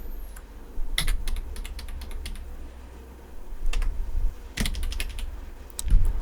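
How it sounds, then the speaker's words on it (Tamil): Fingers type on a computer keyboard while coding Python, with irregular bursts of close key clicks separated by short pauses and a few heavier thumps, with no talk. "மூவ் அப்படின்னு வந்து டைப் பண்ணுறேன்."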